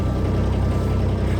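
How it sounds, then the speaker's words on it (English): An old diesel engine aboard a sailboat on Lake Michigan runs in a short burst, giving a close, steady low chugging beat. "What I'm just doing here is starting up the diesel engine."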